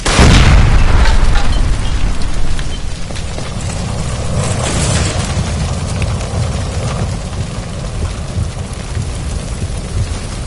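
A gas line blows up in the video game L.A. Noire, a loud deep boom opening the clip and then a long rumbling roar of fire and debris that keeps going at steady strength to the end, with no talk.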